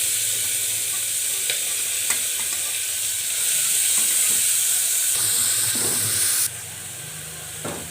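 Grated onions fry in hot oil with masala for a bean curry, giving a loud, steady close sizzle with brief stirring scrapes throughout, then the hiss drops slightly near the end.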